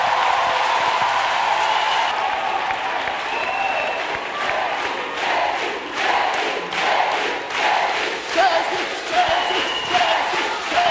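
A crowd at a Christian gathering applauds and cheers in acclaim of Jesus Christ, a steady roar of clapping and voices that keeps going for the whole stretch at close range.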